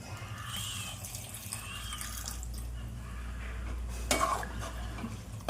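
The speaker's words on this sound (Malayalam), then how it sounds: "ഇതാ നമുക്ക് കുറച്ച് വെള്ളം ഒഴിച്ചു കൊടുക്കാം" Water pours steadily into a pan of chicken liver with a low gurgling rush, followed by a brief metallic clink near the end.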